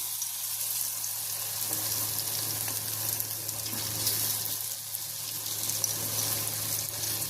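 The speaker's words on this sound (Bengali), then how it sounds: "এই যে দেখো, তেল গরম করতে বসিয়ে দিয়েছি। এখন এটাকে ছেড়ে দিচ্ছি।" Soybean pakora frying in hot oil, a continuous even crackling hiss close by, steady throughout with no talking.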